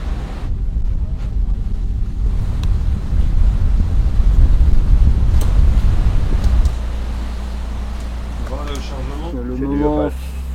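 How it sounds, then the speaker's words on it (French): Offshore racing trimaran Gitana pounding through rough Atlantic sea in the Finistère Atlantique race, with loud continuous wind roar and hull rumble, waves slamming, and voices talking over the noise near the end. "La mer est bien dégueulasse. Ça tapait dans tous les sens."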